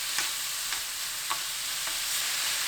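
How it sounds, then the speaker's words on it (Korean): Beef stir-fried over high heat in oil with garlic, a dense steady sizzle with four evenly spaced scrapes of a spatula against the pan. "소고기 넣고 센 불로 1분 볶아주세요"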